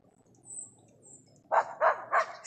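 A dog gives three quick barks in a row, moderately loud and close, after a quiet stretch of faint outdoor hiss and a few soft bird chirps.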